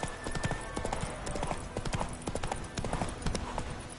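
Roach the horse in The Witcher 3, hooves clip-clopping in a quick, even trot, close and clear for a few seconds, with faint game sounds underneath.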